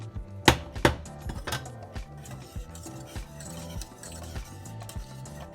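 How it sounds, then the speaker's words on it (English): Ingredients get mixed in a bowl, heard as close, irregular knocks and clinks of a utensil against the bowl, two louder strikes early, then softer repeated taps. "Now you're just gonna mix it."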